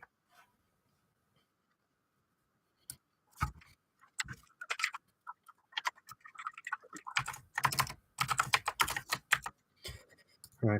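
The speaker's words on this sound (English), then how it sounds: "I can hear the keyboard" Rapid clacking of typing on a computer keyboard, starting with a few isolated keystrokes and building into dense, steady bursts of close, crisp key presses.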